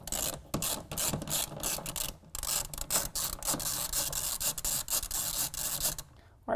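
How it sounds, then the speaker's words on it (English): A T30 Torx bit backs factory bolts out of a 2017 Honda Ridgeline bed, giving close, rapid ratcheting and grinding bursts with brief pauses between runs, ending in quiet. "using a T30 Torx bit, I'm gonna go ahead and remove these three factory bolts from their locations"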